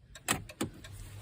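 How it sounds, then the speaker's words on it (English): Key sliding into the ignition of a 2012 Dodge Grand Caravan with a no-reverse fault: two sharp metallic clicks close together, then a faint rattle inside a quiet cabin. "we just got in the vehicle and put the key in"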